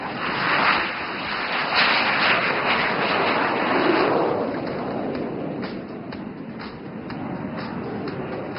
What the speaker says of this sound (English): Rolling in from your left, the HJT-36 ready for takeoff.